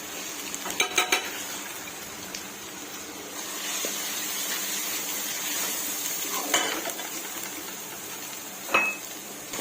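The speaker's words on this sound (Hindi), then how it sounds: "ये देखिए मसाला अच्छी तरह भुन गया है, इसका ऑयल ऊपर आ गया है" Masala spices sizzle and fry in oil for an aloo baingan dish, giving a steady, moderate crackle with a few sharp clinks of a spoon or utensil against the pan near the start and end.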